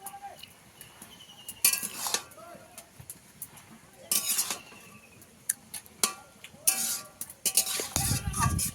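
Spinach being stirred in a cooking pot with salt and turmeric, scraping and clinking utensil strokes in irregular bursts with a brief sizzle, close by, with occasional background talk.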